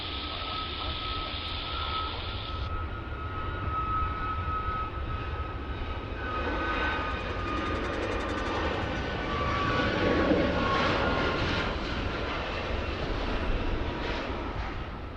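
A Singapore Airlines airliner in Star Alliance livery lands on runway 16 right at Sydney Airport, its engines giving a steady broad roar that swells gently midway, with a brief beeping tone early on and no talk.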